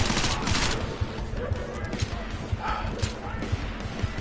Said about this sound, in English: pull out good old machine pistol and light them up